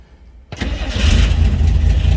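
A 1965 Chevrolet Corvair Monza Sport Coupe cranks and fires after a quiet moment, its engine catching abruptly and settling into a loud, close, steady idle.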